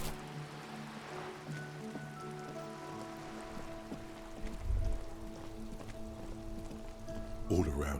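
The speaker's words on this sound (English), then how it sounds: "All around you, rain falls on the great city of Revachol." Steady rain falls on a city in the video game Disco Elysium, a soft continuous patter under low sustained musical tones, with a brief louder splash-like burst near the end.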